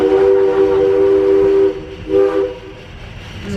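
A narrow-gauge Georgetown Loop Railroad train in Colorado sounds its whistle, a loud sustained blast followed by a shorter one, over the rumble of the moving train.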